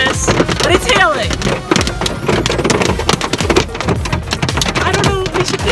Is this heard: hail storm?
yes